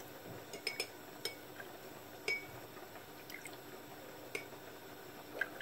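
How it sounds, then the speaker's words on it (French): Roughly ten tablespoons of lukewarm milk are spooned into a bowl to start yeast for a stuffed braided bread, giving faint metal-on-glass clinks and small liquid drips scattered irregularly over a quiet room. "je vais mettre à peu près 2, 3, 4... à peu près 10 cuillères à soupe de lait tiède"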